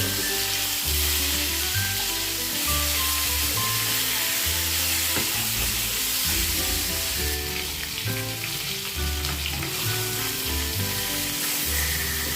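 Katla fish pieces fry in hot oil, partly cooked for a rezala curry, with a dense, constant, close-up sizzle and bubbling throughout.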